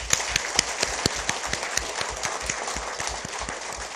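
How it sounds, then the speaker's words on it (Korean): Audience applause rings out at a district office staff meeting, a steady wash of clapping with a few sharper distinct claps, close and continuous without talk. "자, 박수."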